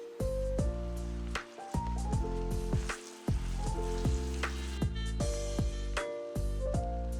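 Pasta in tuna sauce and oyster sauce sizzling and frying in one pan while being stirred, a steady loud sizzle with bursts of music playing over it throughout.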